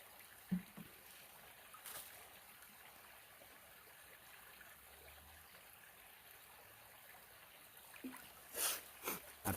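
A trail stream runs as a faint, steady trickle and babble while a water bottle is filled, with a few brief knocks and splashes near the end.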